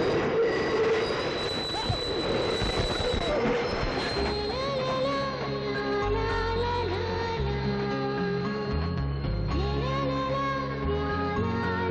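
A train rolls along the rails with a heavy low rumble, then its wheels squeal loudly in long, shifting metallic tones as it slows, with faint voices in the background.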